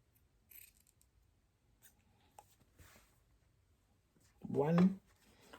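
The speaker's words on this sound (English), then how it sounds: "So use a point of your scissors to clip." Sharp scissors snip the fabric corners of a knife-edge throw pillow cover: a couple of close, crisp cuts near the end, after faint handling rustles in a quiet room.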